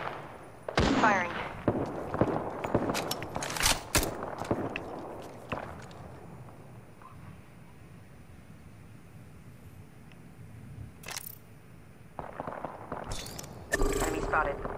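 Scattered gunshot bursts in the video game Apex Legends, sharp cracks clustered at the start and again near the end, with a quieter stretch in between and voices talking over the action.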